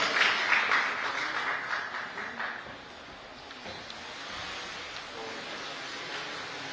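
Broad, sustained applause from an audience at a technology market access expo in Goa, loudest at the start and then fading to a softer, steady wash of clapping.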